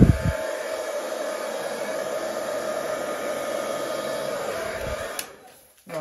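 A hair dryer blows steadily and loudly across acrylic paint in a pour painting, a constant broadband whoosh that cuts off near the end.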